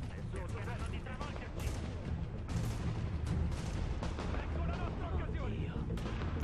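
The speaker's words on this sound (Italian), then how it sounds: "Ha tirato una granata, merda." Grenade explosion in the video game The Division, heavy booms and gunfire rumbling densely over several seconds, with a player's voice talking over the battle.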